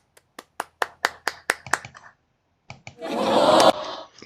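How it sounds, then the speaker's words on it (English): A clapping sound effect from an editing app's library: about ten crisp, evenly spaced single claps, a short pause, then a few more claps swelling into a brief burst of crowd applause. Loud, close and clean, no talk. "Let's look for clapping."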